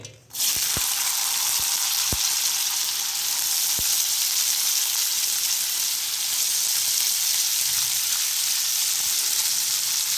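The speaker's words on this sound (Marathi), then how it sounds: "आता आपण याच्यात गवार टाकतोय आपण कढईमध्ये" Cluster beans (gavar) fry in hot oil in a wok, a loud, steady, close sizzle that starts abruptly and holds for the whole stretch, broken by a few faint clicks.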